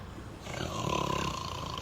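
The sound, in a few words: echoey snoring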